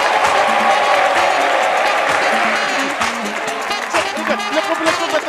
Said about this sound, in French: faites beaucoup d'applaudissements aux zinzins de l'art